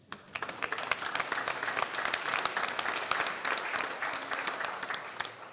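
An audience at a conference gives warm, dense applause that swells quickly and holds steady for several seconds before easing off at the end.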